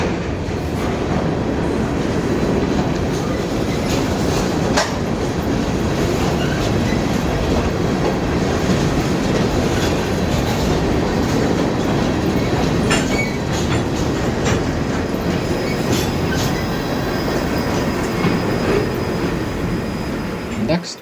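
Freight train B455 hauling empty stone hoppers from La Plata, Maryland rumbles past steadily and loudly at close range for the whole stretch, with wheel clatter and faint metallic squeal over a dense low roar.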